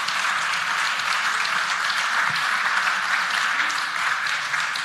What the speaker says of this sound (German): Einen freundlichen Applaus für Carmen Durchschlag und Frau Demischek.